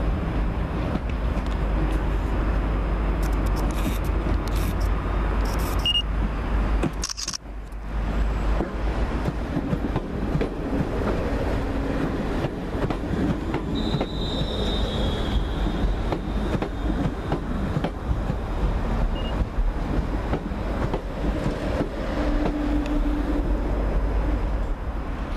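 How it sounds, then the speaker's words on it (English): Passenger train, unit 36108 from Colchester Town, arriving to terminate at Colchester station. A low, continuous rumble of wheels and engine runs throughout, with a brief loud burst and faint squeals and clicks along the platform. "Now coming in and arriving to terminate from Colchester Town should be 36108"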